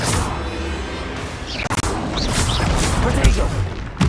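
Blasting spells burst in Hogwarts Legacy combat, a dense run of booming, crashing hits layered over busy game noise with a voice calling out spell names.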